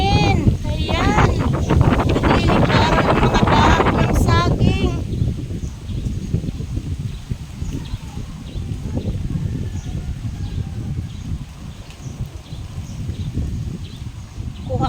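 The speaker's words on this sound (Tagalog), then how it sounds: "Lakas ng hangin." Heavy wind rumbles against the microphone throughout, with a person talking loudly over it at first before the gusts carry on alone.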